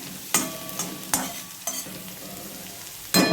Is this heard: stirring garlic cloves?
yes